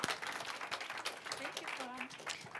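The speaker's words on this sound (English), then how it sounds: "A round of applause for team number 6." Applause from the audience at a hackathon, greeting team number 6 with a dense wash of clapping while voices chatter over it for a couple of seconds.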